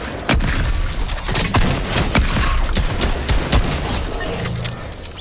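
Dense bursts of heavy assault rifle fire in a Fortnite Chapter 2 match, loud and close, with rapid cracks and booming impacts overlapping throughout.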